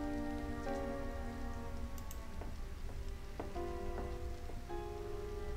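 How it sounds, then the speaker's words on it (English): Pouring rain hisses steadily in a point-and-click mystery game, a constant wash of sound under sustained musical tones and occasional soft ticks. "It's pouring rain outside."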